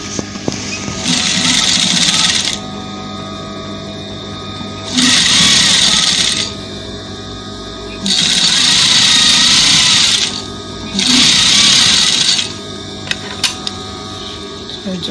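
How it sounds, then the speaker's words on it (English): A sewing machine stitches fabric for a boy's African-style top in four loud, steady whirring runs of about two seconds each, separated by short pauses filled with faint handling noise. "I just want to hold it with the machine. I just want to stitch it straight"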